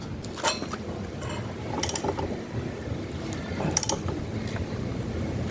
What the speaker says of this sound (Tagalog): so ibalik na rin natin tong axle nut